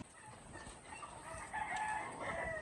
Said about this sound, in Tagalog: yung mga manok natin, ang lalakas nilang kumain